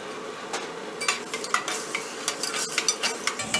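Tomato puree added to a frying fish sauce for baked fish Portuguese, with a spoon stirring and scraping the pan in quick irregular strokes over a soft, faint sizzle.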